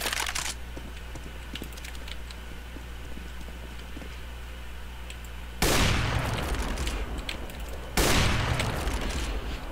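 Gunfire in a first-person shooter video game, heard as two loud, sudden shots several seconds apart, each followed by a lingering tail over a steady background hum and light clicking.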